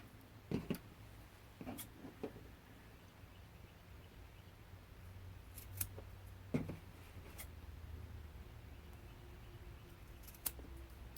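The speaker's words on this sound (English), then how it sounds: "So I cut off all of my corners." Scissors snip off the corners of a quilt in a few sparse, quiet, crisp clicks over a low hum, with no one talking.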